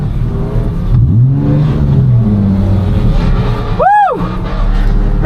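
A drift car engine revs hard at a UK drifting competition, loud and continuous, its pitch climbing and falling. Around the four-second mark a car roars past in a quick, sweeping pass.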